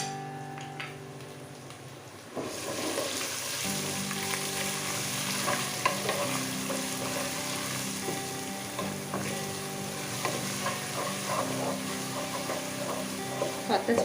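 Two heaped tablespoons of ginger garlic paste sizzle loudly in oil with leftover fried onions for shahi chicken polao, a sudden hiss as the paste hits the pan followed by steady crackling and occasional stirring, with a voice talking over it.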